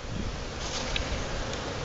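Honey bees from a northern-raised overwintered nucleus colony hive buzz in a dense, continuous drone, close and steady with no voices.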